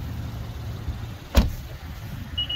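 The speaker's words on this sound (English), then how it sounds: "Now we're gonna pop open the gas tank here quick." Fuel door of a 2023 Honda Ridgeline RTL-E pops open with a single sharp click close by, amid a quiet outdoor hum.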